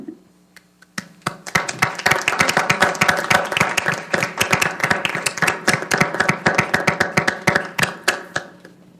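Clapping at a school governing board special meeting, held for a retiring staff member. A small group claps in dense, steady hand claps for about eight seconds. The claps are fairly close and clear, then stop abruptly.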